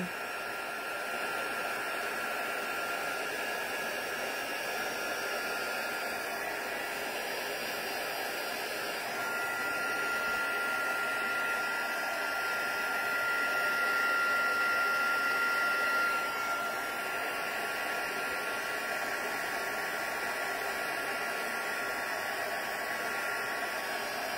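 A heat tool blows continuously while melting embossing powder, a steady whooshing hiss with a constant whine that runs for the whole stretch, slightly louder midway, with no talking.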